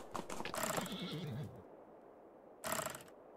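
A horse in the video game Tavern Manager Simulator gives a loud, close whinny lasting about a second, followed by a pause and a short burst of clip-clop or mechanical clatter; no speech.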